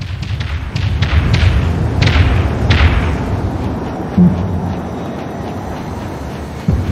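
Vulture missiles launch in the naval combat game Dreadnought, heard as a rapid series of heavy thumps and whooshes over a constant loud rumble of battle, with a few sharper impacts near the end.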